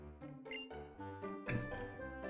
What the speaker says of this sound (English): Cross transceiver is ringing.